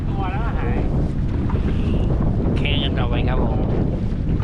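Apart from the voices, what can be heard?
strong wind gusting at sea on a boat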